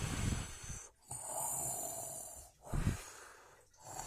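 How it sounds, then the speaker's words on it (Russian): Snoring indoors: two or three drawn-out snores with pauses between, close and fairly quiet, with a rough rattling quality. "Это кто тут храпит?"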